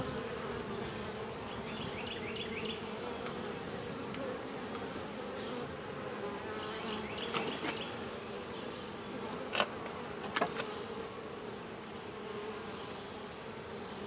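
Honey bees drone steadily in a nursery nuc hive holding a queen, eggs, larvae and brood, a continuous close buzz throughout with a few brief handling knocks and clicks near the end.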